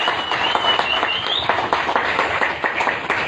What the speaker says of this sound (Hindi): जबरदस्त ताली होना चाहिए।